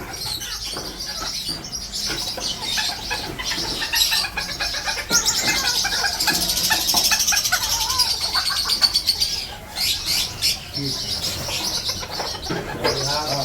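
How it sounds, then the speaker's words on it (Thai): Several spotted doves coo repeatedly nearby at Chatuchak pet market, with chirps and occasional wing flutters mixed into a busy, lively background. "อันนี้นกเขาเสียงด่าง เป็นนกเขาด่างครับ"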